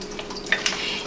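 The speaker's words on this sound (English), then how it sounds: "we're going to give everything a nice stir" A spoon stirs a pot of cheeseburger soup with dried parsley just added, giving soft scraping and liquid swishes along with a couple of light clinks against the pot.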